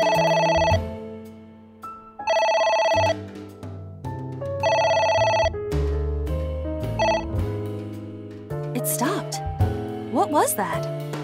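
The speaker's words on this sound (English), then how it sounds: "A phone. Should I pick it up?" Telephone in the video game AI: The Somnium Files rings in three loud, repeated bursts of bright electronic tones, followed by game music and effects.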